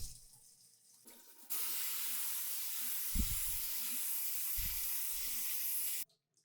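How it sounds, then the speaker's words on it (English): Rice in a fine mesh strainer is rinsed under running water, a loud steady hiss and splash that starts suddenly, runs for about five seconds with a couple of low thumps, then cuts off. "give it a rinse. And you just want to rinse it until the water runs clear."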